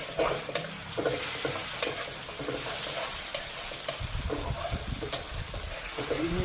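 Onions and garlic frying in a pan while being stirred, a soft continuous sizzle broken by scraping and stirring strokes, close and moderately quiet.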